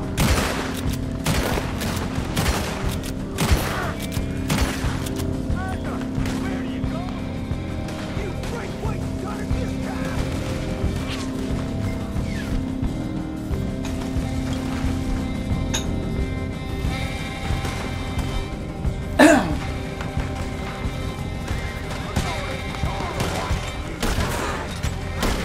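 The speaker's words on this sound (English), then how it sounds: "Time to start shooting." Red Dead Redemption 2 gunfire during a crop-burning mission, with steady rapid shots crackling and popping throughout at moderate loudness over game background noise and one sharper, louder report near the end.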